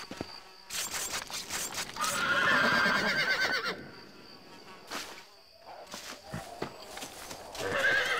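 A horse whinnies loudly in Red Dead Redemption, with hoofbeats and buzzing insect-like ambience, then a second neigh follows after a quieter stretch.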